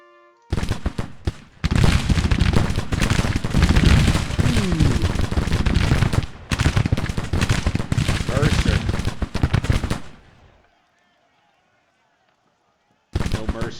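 Loud battle gunfire from a Civil War strategy game, Grand Tactician: The Civil War, with dense volleys of musketry and artillery roaring for about eight seconds, then fading into quiet before the shots resume at the end.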